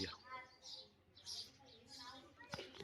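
Small birds chirp in short, high tweets scattered across the clip. Their calls sound close and come amid light background sounds.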